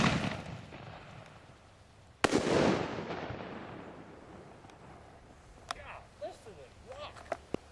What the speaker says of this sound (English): we're firing another artillery shell. This is actually an Excalibur